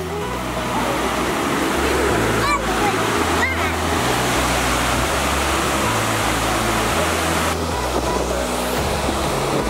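Waterfall at High Falls, Georgia, roaring as a loud, continuous broadband rush of falling water and spray, close by and unbroken, with a few faint higher chirps and thumps over the constant torrent.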